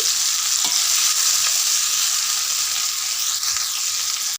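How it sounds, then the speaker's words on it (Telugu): Okra pieces frying in a pan over medium heat give a loud, dense, continuous sizzle that stays even throughout, with faint stirring scrapes and no talking. "బెండకాయ ముక్కలు స్టవ్ మీడియంలో పెట్టి వేపుకోవాలి"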